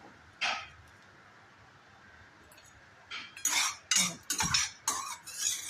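Cumin seeds are dry roasted in a pan, heard mostly as a run of clinking, scraping stirs of a metal spoon against the pan after a quiet stretch with one early clink.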